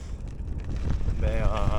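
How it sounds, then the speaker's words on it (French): A headwind buffets the microphone while cycling through the Taklamakan desert, loud gusty rumble throughout, with a voice speaking over it in the second half. "j'ai le vent de face"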